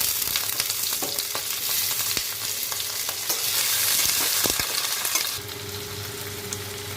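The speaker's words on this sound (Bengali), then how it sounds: "টমেটোগুলো নরম নরম হয়ে যাচ্ছে, ভাজা ভাজা হয়ে যাচ্ছে।" Tomatoes, cashews, almonds and ginger frying in a pan for paneer makhana, giving a loud continuous crackling sizzle with occasional light clinks of stirring, the sizzle quieting somewhat toward the end; no speech.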